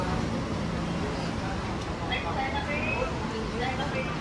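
Road traffic in heavy congestion gives a steady, broadband rumble heard close by, with faint voices in the background.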